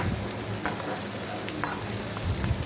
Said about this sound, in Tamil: இந்த மாதிரி எல்லா இடங்கள்லையுமே பூண்டு வெங்காயமும் நல்லா வதங்கி வரணும்